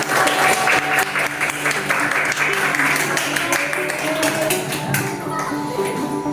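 A classroom full of students claps together in steady, dense applause, with faint children's voices mixed in, loud and close throughout.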